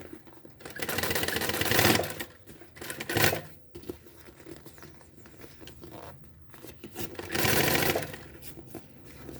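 Uneven bursts of sewing machine stitching on a Paris-style bag, several short runs of needle clatter and motor whir separated by pauses with handling sounds of fabric.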